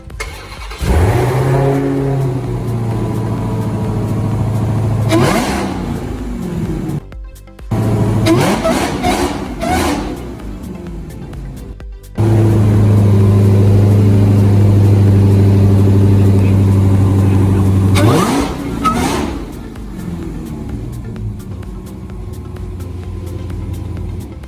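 A 2020 Dodge Charger Hellcat Widebody with a Bwoody intake revs close by, its supercharger whine rising and falling over a deep engine rumble across several throttle blips, with a sustained high rev in the middle.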